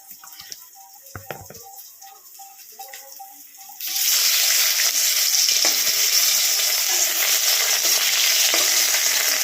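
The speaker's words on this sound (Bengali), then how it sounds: "মাছটা বসিয়ে দিলাম ভাজতে" Fish frying in a pan in a home kitchen: quiet clinks and faint kitchen noises, then a sudden loud, steady hiss and sizzle of hot oil that carries on to the end, close and continuous.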